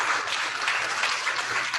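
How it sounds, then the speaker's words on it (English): An audience applauds Balpreet Kaur with steady, dense clapping that fills the whole short stretch at an even loudness, with no voices rising above it. "Yes, give her a round of applause."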